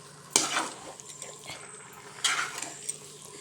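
Tamarind water is stirred into a pot of aviyal, a Kerala vegetable curry, giving a soft, steady scraping and stirring noise with two brief sharper clinks against the pot.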